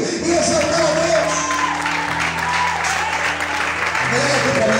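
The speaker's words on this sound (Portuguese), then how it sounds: "É que você pode aplaudir e exaltar a Deus." A congregation at a church service applauds in a sustained, dense roar. Sustained tones from an instrument or organ and a voice sound alongside.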